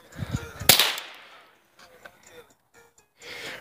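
Pump-action shotgun loaded with bulk shells being racked after a jam: a sharp metallic clack rings out over a few low thumps, then fainter scattered clicks and handling noises, with people talking nearby.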